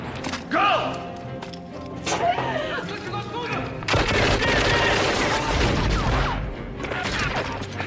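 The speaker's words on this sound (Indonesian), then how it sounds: "mereka ketahuan yang membuat Rainbow menembak hingga memancing tentara lainnya" Gunfire from the film Rambo III, as shots draw more soldiers into a fight, comes as loud, dense bursts with heavy thuds, growing into a sustained barrage after a few seconds and mixed with other action sounds.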